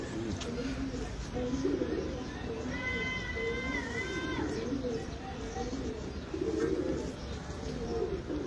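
Pigeons cooing in soft, rolling repeated phrases close by, with a brief high chirp partway through and steady background noise throughout.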